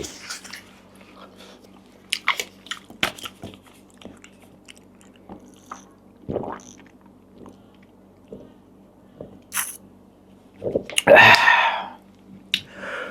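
Someone eating curry with rice and shrimp, with close, quiet chewing and mouth clicks spread over a low steady hum, ending in a louder burst of crunchy noise.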